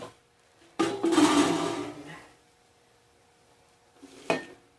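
A big kitchen pan being picked up and handled with a clattering metallic rattle, then after a pause set down with a sharp knock, in a quiet kitchen while making ghee.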